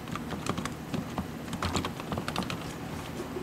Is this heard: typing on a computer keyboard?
yes